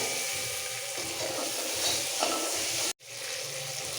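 Gentle frying sizzle of eggs in a little oil in a pan with occasional soft stirring sounds, steady and close, cut by a brief silent gap near the end.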